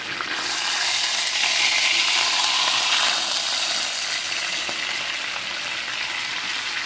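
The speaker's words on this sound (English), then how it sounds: "we're going to go ahead and sear it on both sides" Beef pieces searing in a hot pan for a crockpot beef curry, giving a loud, steady, close sizzle that holds evenly throughout with no voices.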